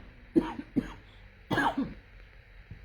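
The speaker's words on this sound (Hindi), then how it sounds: "मुझे दौरा पड़ गया ना खांसी का," A few short, raspy coughs close by: two quick ones, a pause, then a harsher burst of coughing, fairly quiet overall.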